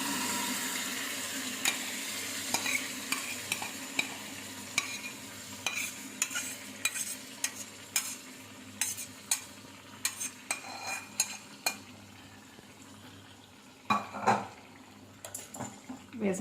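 Mashed gongura leaves tipped into a hot tempering of fried dals and stirred in a pan, with steady scraping, clinks of a spoon on metal and a soft sizzle running under the whole stretch.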